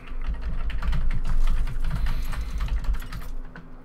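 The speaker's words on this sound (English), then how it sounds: "At least I'm typing away." Steady stream of rapid typing on a computer keyboard, the keys clattering continuously and close by for about four seconds, with a low background hum beneath and no talking.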